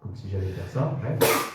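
A single sharp sneeze bursts out at the end, loud and close, right after someone speaking French.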